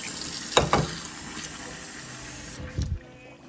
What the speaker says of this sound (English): Here, I'll just put water in it.